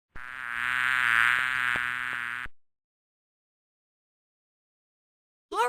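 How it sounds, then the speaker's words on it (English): A bee's steady buzz drones close and loud for about two seconds with a few faint clicks over it, then cuts off into silence, and a brief new sound begins at the very end. "Bee."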